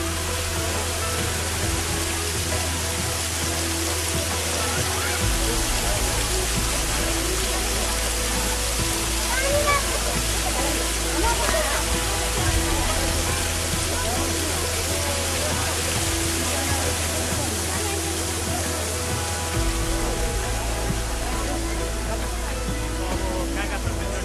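Flowing water rushes steadily near the Kailashnath Mahadev statue in Nepal, a dense continuous outdoor roar like a stream or waterfall, with faint voices in the background.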